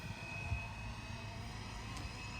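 A steady, droning motor whine with a faint high tone holds at a constant level throughout, from a GPS RC helicopter flying at full speed, pitched all the way forward.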